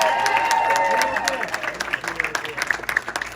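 Audience applause at a political event for a primary election win, a dense wash of clapping that starts loud and thins into scattered claps, with some crowd noise mixed in.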